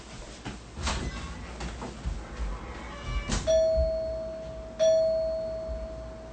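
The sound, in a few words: doorbell being rung repeatedly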